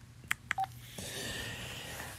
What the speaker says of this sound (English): It's beeping because my phone battery is dying.